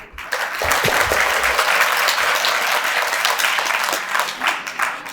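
Sustained applause from the audience at an anniversary gathering and foster-family meet in Meerut, dense and steady for several seconds, loud and close with no talk over it.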